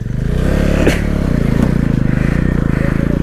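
A KTM sports bike revs hard and loud off-road through deep water, its engine note pulsing and churning up close with splashing scrapes, while voices speak over it.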